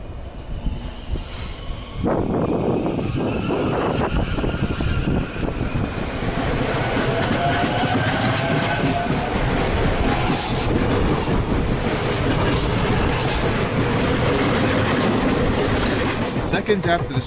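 A SEPTA Silverliner 5 train leaving a station along the Delaware River, rising quickly into a loud, continuous rolling rumble with squealing wheels and rail noise that holds steady close by for the whole stretch.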